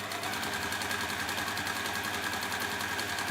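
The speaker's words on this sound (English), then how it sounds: "And again, top stitching." A sewing machine runs steadily, top stitching ribbon onto a felt purse, its motor hum and rapid needle chatter continuous and close for the whole stretch with no talking.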